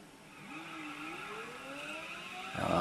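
A Corvette in a video game drives with a steady, rising engine whine and a tire-squeal tone that glides upward, ending in a louder burst of noise, with no talking over it.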